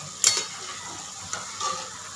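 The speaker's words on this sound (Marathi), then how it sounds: "मस्त असे आपले गुलाबजामू तळलेले आहेत" Gulab jamun frying in oil over a medium gas flame give a steady soft hiss, with a sharper sizzling burst near the start and a couple of brief crackles later, alone without talk.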